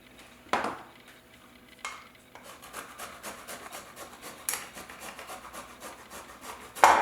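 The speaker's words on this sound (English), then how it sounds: "I'm going to grate a little bit of ginger for a nice spicy tang to this dressing" Fresh ginger is grated by hand for a salad dressing, giving soft, rhythmic scraping strokes that repeat steadily at close range and stay quiet, with a few sharper knocks along the way.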